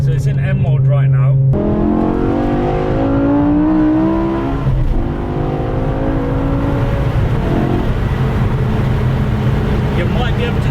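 A BMW E60 M5 fitted with an Eisenmann race exhaust, driven in M mode, its engine drones loudly with rising and falling revs as the car pulls through the gears, steady and close.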